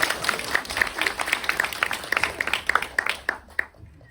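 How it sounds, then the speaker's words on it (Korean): An audience at a Korean film screening Q&A claps for a doctor, a brief round of scattered hand claps that quickly fades out near the end. "선생님께도 박수 한번 부탁드립니다."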